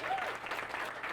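Comedy club audience applauds comedian Reuben Sadler in a half-full room, a brief burst of dense clapping at moderate distance.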